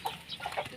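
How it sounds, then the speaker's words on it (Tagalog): Chickens on a Philippine swine and hog farm clucking in short, fairly close bursts with a few sharp calls, no talking over them. "Chickens."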